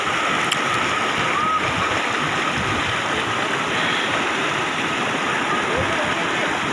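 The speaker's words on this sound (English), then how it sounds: "This is very powerful river, not a small." A powerful mountain river near Batseri village rushes in a loud, steady, unbroken roar of churning water, close and continuous throughout, with no voices rising above it.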